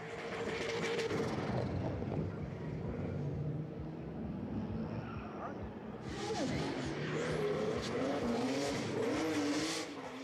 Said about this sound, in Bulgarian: Отново тук наблюдавате Атанас Колев с неговия Нисан